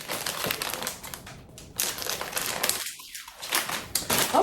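A Japanese snack package being cut open, with close crinkling plastic and short snipping crunches in uneven bursts, a brief quiet gap midway.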